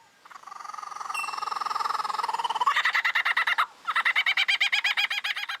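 A lyrebird imitating a kookaburra pours out a loud, rising cackling call that breaks into rapid rhythmic laughing chatter, pauses briefly, then continues.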